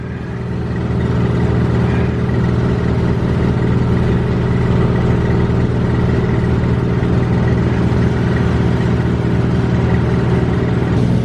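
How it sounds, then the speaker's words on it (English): Pump transferring Roundup herbicide out of a tote through a meter, a loud, steady mechanical drone with a strong low hum that starts up and then holds constant throughout. "This is pumping out of this tote into here, the meter in it."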